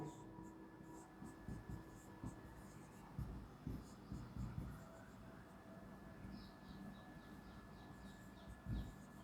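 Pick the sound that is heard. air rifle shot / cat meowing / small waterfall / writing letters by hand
writing letters by hand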